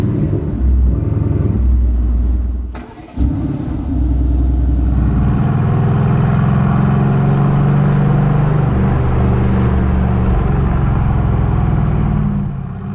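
A Mercedes-AMG GT R sports car pulls away with a loud, deep engine rumble that swells and holds steady, heard close and alone after a brief dip.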